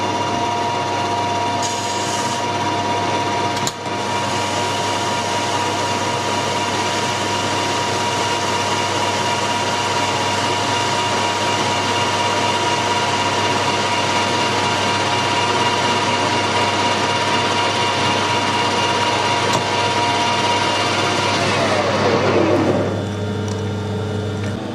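A metal lathe facing the end of a metric part runs with a steady loud mechanical hum and whine for over twenty seconds, a brief clunk near the start, then spins down at the end.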